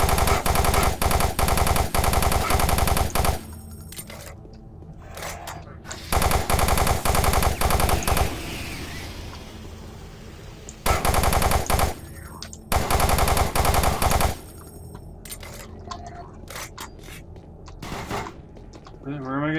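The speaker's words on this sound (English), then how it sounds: "Where am I getting shot at from?" Rapid machine-gun fire in Doom 3 shoots at the player, coming as loud sustained bursts of several seconds each, separated by quieter gaps with scattered shots.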